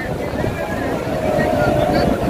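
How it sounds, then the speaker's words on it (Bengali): Sea waves breaking on the beach at Cox's Bazar form a loud, steady roar mixed with wind buffeting the microphone, continuous for the whole stretch with no clear pause. "সামনে যাই, সমুদ্রের ঢেউ।"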